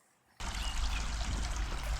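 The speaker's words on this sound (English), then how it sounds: "this is a little mill race coming off the River Anker" Water pours and splashes in a small mill race running off the River Anker, starting abruptly after a short near-silence and then holding as a close, steady rushing trickle.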